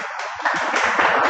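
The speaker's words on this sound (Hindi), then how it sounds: "तालियां नहीं बजानी है भाई, काम करना है।" An audience claps briefly at the end of an exam-preparation session, making a dense, steady patter of many hands.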